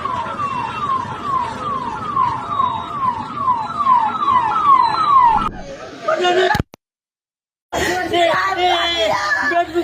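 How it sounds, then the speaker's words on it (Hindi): Fire engine sirens wail at a hospital fire, with a steady repeating rising-and-falling sweep for about five seconds. The siren then cuts off and voices follow. "जब फायर टेंडर की सायरन्स आप सुन रहे थे"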